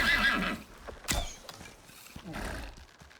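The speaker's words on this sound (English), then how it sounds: "Oh, for crap, man, we've got horses again." Horses neigh and whinny in the survival game Icarus, with a loud call at the start, a sharp burst near the middle and another whinny near the end, mixed with hoof clatter and game noise.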